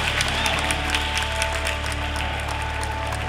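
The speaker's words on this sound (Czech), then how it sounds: "Velký potlesk!" Applause from the audience at the Laskavec award ceremony, a steady, dense wash of clapping that runs evenly through the whole stretch with no talking over it.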